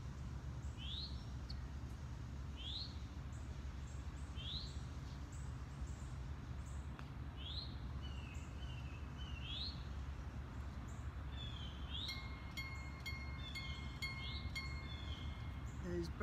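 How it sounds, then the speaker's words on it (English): Birds chirp in repeated short rising calls, fairly distant, over a steady low rumble, with a quicker run of tweets near the end. "Those birds can get to eat."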